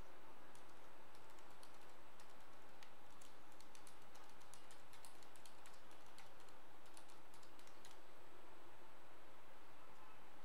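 Steady typing on a computer keyboard, quick scattered keystrokes with short pauses, fairly faint and close over a soft background hiss, no voices.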